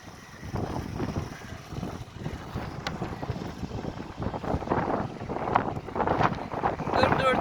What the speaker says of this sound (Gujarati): ચારે બાજુથી પવન ઠંડો ઠંડો પવન આવી રહ્યો છે